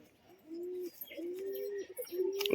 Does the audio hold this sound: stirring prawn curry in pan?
no